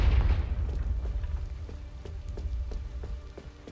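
A Confringo fire spell from Hogwarts Legacy bursts with one loud, deep explosive boom at the start, then fades into a rumbling tail broken by faint crackles.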